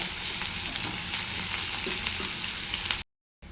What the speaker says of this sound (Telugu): ఉల్లిపాయలు మంచిగా ఫ్రై అవ్వాలి ఆయిల్లో